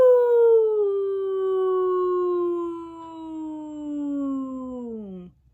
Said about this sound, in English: we're going to glide from a high pitch down to low